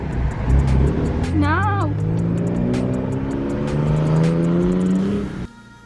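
A Toyota Supra drives off and accelerates away from a supercar meet, its engine note climbing steadily through the gears at close range before cutting off abruptly. A voice speaks briefly over the engine.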